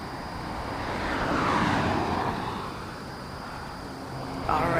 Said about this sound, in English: Emirates A380 touching down in front of us